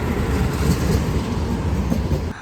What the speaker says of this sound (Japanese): ここにも路面電車走ってるんだ。